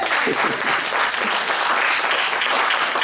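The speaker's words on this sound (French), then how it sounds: "Acclamons Benjamin." A church congregation applauds a young drummer after a Baptist service, with full, sustained clapping filling the room at a constant level.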